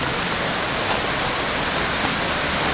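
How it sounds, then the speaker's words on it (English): A small creek runs right behind a campsite at a mountain camp resort in Cosby, Tennessee, giving a steady, broadband rush of flowing water that stays even and close throughout, with no voices. "we got a nice little creek here right behind our unit"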